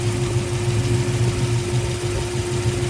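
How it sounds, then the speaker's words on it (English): Steady, loud idle of an LS3-based 416 cubic inch stroker V8 in an everyday street car, a continuous low rumble with an even throb and no speech over it. "I didn't really want to have a radical sounding engine because this is an everyday street car anyways."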